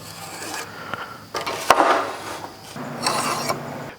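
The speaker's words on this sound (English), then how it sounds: "So now I'll mark the other end of the board." A wooden board for a roof truss is marked by hand, giving short, close scratchy rubbing strokes in a few bursts with a sharp knock in the middle.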